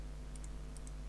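A computer keyboard is typed on in a quiet room, two quick pairs of light key clicks spaced about half a second apart.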